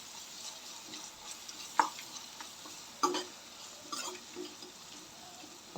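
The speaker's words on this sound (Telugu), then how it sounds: "ఒక్క 2 నిమిషాలు సిమ్లో పెట్టి వేయించుకోవాలి" Turmeric and ginger garlic paste frying in a pan over low heat gives a soft steady sizzle, with a few louder scraping stirs and clicks from a utensil.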